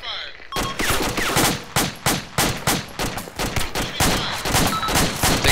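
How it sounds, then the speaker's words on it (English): Rapid automatic gunfire rattles in bursts in the video game Arma 2, loud and close, sharp repeated shots with brief gaps between volleys. "Heavy fire."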